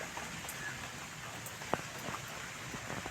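Steady rain falling on garden plants in a flower garden with torenia, begonia and lantana, a soft continuous patter with a few sharper drops standing out, no voices.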